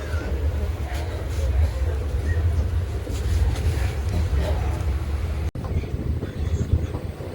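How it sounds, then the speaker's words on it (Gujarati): The Nagaland Express passenger train running along the track, heard from inside as a steady low rumble and rattle that continues throughout, with one abrupt brief cut partway through. "કેમ કે ટ્રેન તો હાલતી થઈ ગઈ છે હવે."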